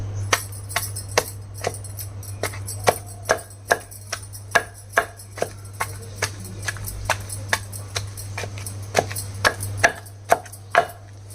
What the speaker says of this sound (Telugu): ఉల్లిపాయ వేసిన తర్వాత ఇలా దంచేయాలండి బాగా మెత్తగా దంచకూడదు కచ్చపచ్చగా దంచాలి